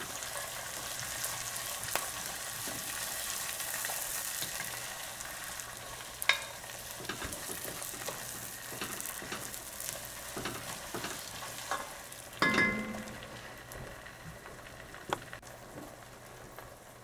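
Onions gently sautéing on low heat in a Dutch oven give a steady, soft sizzle with occasional scrapes and clinks of a utensil against the pot, no voices.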